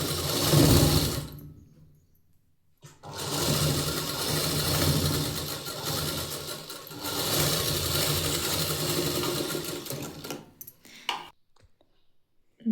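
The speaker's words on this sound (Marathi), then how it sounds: "आता आपण दुसरी टीप मारून घेऊया." A sewing machine stitches a katori blouse in two sustained mechanical runs separated by a short pause, then stops with a few faint clicks at the end.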